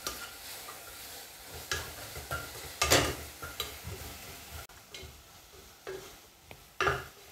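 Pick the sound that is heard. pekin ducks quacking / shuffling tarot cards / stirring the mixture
stirring the mixture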